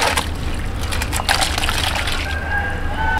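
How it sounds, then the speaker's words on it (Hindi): Cooked beef with its liquid is tipped into a karahi, making a wet, sloshing pour and splashing that runs steadily nearby, with a faint thin whine later on. "कुक किए हुए गोश्त को कढ़ाई के अंदर डाल देंगे"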